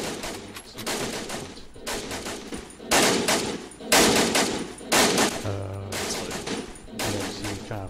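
A German light machine gun lays down suppressing fire in a video game, loud rapid bursts of automatic shots repeating in roughly one-second volleys with brief gaps between them.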